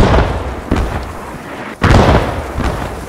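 Grenades going off in the World War II shooter Post Scriptum, loud close blasts with a sharp burst around the middle of a dense rumble of gunfire and battle noise.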